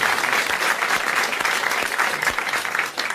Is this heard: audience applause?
yes